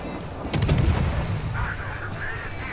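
Naval gunfire in World of Warships, played on the destroyer Asashio, comes as a deep rumbling boom with a few rapid cracks, followed by a sustained low roar of battle ambience and a faint higher tone.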